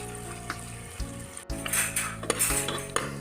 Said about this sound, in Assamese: এতিয়া এই পিঁয়াজখিনি মই অলপ ৰঙচুৱা হোৱালৈকে ভাজি থাকিম